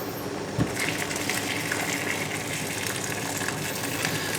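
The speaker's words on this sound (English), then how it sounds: "I'm just going to top it up with some more boiling water from the kettle" Boiling water poured from a kettle into a pot of water for cooking chunky oven chips, a steady continuous gushing splash with a brief knock near the start.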